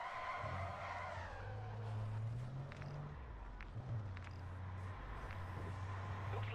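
Vehicle driving in Call of Duty Modern Warfare 3 Zombies: a steady low engine drone runs throughout, with tire skids and squeals rising over it, with scattered game effects.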